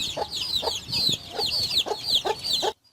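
A broody hen with her chicks clucks repeatedly and close by while the chicks peep in high, rapid chirps above her, all in a small coop, ending abruptly.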